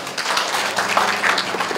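An audience at a village heads' association award ceremony claps together, a steady, moderately loud wash of applause filling the room with no speech over it.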